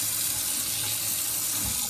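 A kitchen sink faucet in a hotel room runs at full pressure, a loud, steady rushing of water splashing into the basin, close and uninterrupted.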